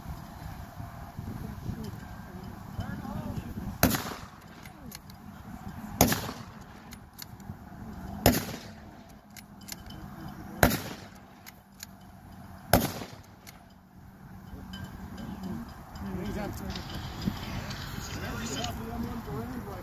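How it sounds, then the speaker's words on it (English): A World War II era main battle rifle fires five shots outdoors, sharp loud cracks spaced about two seconds apart, with quieter sounds of handling between them. "Pay attention how long it takes me to shoot 5 shots."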